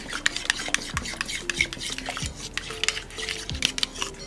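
A spoon whisking vinaigrette with water, salt, pepper, garlic and parsley in a bowl, making quick rhythmic scraping and clinking strokes against the side, close and fairly quiet with no talking.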